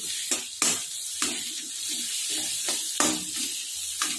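Raw green mango sizzles in hot spice masala with garlic and green chillies, loud frying hiss broken by repeated scraping stirs of a spoon against the pan.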